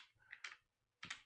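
Typing on a computer keyboard: a few quick, faint key clicks in short bursts, close and isolated, with a pause before a final cluster of taps.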